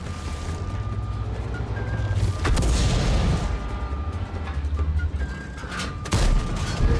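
Heavy tank cannon fire in World of Tanks, high-explosive shells booming repeatedly over a dense, continuous roar of battle rumble, with loud blasts about every few seconds and a constant engine-like low drone underneath.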